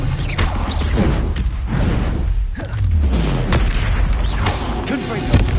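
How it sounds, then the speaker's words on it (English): The Expelliarmus spell from the Hogwarts Legacy video game lands amid loud booming blasts and whooshing magical effects, dense and continuous, with a voice calling out spells over the chaos. "Expelliarmus!"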